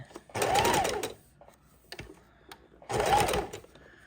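A sewing machine stitches trim onto a junk journal cover in two clear loud bursts, each under a second, separated by a quieter pause with a few faint clicks and handling noises.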